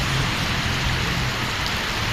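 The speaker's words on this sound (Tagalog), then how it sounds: "kaibigan, umuulan" Steady, dense rainfall hissing continuously on a surface, close and fairly loud, with no voices.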